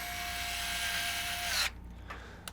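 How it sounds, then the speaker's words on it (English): Screws being driven into the back of a graphics card in a pre-built PC case, a steady, close whirring buzz from a screwdriver that stops suddenly, followed by a few faint clicks. "After you've got the graphics card in, you want to make sure you put the screws in on the backside."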